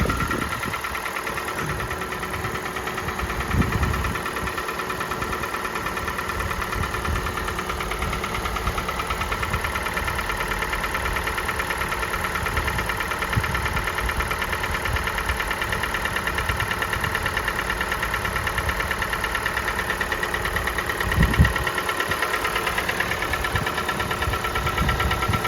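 A Kia Sportage's G4NA engine idles from a cold start, a steady mid-pitched running drone with a faint repetitive ticking knock beneath it and a few brief louder thumps, continuous and close with no talking.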